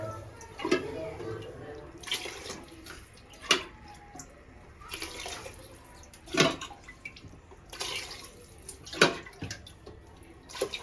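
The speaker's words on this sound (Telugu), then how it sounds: "ఎయిట్ గ్లాసెస్ వాటర్ వేసుకున్నాను." Water is poured glass by glass into a cooking pot for bagara rice, a spiced flavored rice, in a series of short, close splashing pours separated by quiet gaps.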